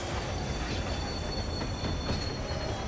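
Steady, loud train rumble with squealing metal wheels and a faint clatter runs unbroken for a few seconds during a Final Fantasy XIV fight.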